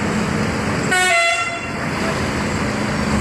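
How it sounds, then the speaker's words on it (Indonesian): An Indonesian intercity bus sounds a brief musical telolet horn, a short loud tooting burst with harmonic tones over steady engine and road noise. "Wah, sudah mantap ya teman-teman tololetnya."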